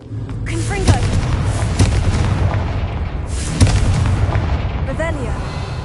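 Confringo fire spells exploding in the Hogwarts Legacy video game: loud booming blasts with crackling bursts, several in a row over a constant rumbling game background.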